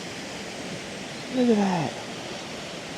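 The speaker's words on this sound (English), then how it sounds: "Look at that weir. Little waterfall." Water pouring over a small weir, a little waterfall in Kent, gives a steady broadband rush close by, while people talk briefly over it.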